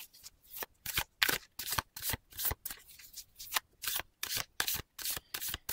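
Fortune-telling oracle cards are shuffled and drawn in a steady series of crisp riffling bursts, close up, with brief pauses between each pass and no talking.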